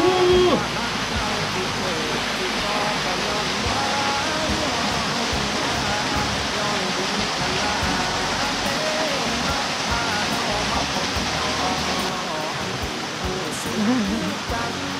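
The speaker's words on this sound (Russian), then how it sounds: "Вот это второй каскад я сниму" Cascade of the Khlong Nonsi waterfall on Koh Chang, a loud, steady rushing roar of falling water that fills the whole stretch without pause.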